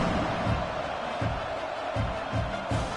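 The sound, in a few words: crowd buzzing in a college football video game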